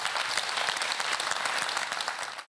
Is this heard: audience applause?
yes